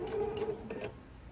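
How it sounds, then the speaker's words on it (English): A sewing machine stitches a quilt block with a soft, steady mechanical whir and light rhythmic clatter, quiet and close. "I'm gonna sew until I'm close to the pin, but not on it"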